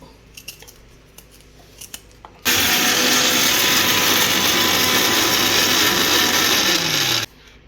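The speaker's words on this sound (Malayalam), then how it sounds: "ഒന്ന് ചെറുതായിട്ട് മുറിച്ച് ഇട്ടാൽ നമുക്ക് വേഗം തന്നെ അരച്ചെടുക്കാം." A mixer grinder grinding chopped ingredients into a paste starts suddenly and whirs loudly and steadily for about five seconds, then cuts off, after a few small clicks.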